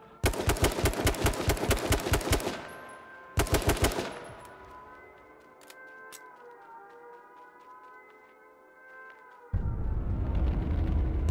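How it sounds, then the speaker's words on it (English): Rapid gunfire from a competitive video game match rattles in a fast burst, then a brief second burst, followed by a lingering tonal hum and a rising noise at the end. "Lavino popping shots and Menma does not know Menma has the hunting rifle."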